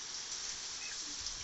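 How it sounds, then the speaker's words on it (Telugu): Heavy monsoon rain pours down in gusty wind that sways the trees and soaks a parked vehicle, making a dense, steady, even roar of drops with no voices. "చూడండి చూడండి, వర్షం ఎంత పెద్దగా పడుతుందో. భారెత్తున వర్షం పడుతుంది మాకు."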